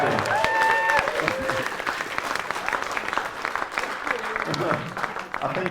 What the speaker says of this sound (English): So I want a round of applause for my brother and my dad, first of all.